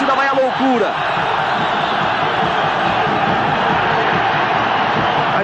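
A packed football stadium crowd roars continuously at a 1982 Brazilian championship final between Grêmio and Flamengo, a loud, dense wall of cheering with a few whoops rising early on.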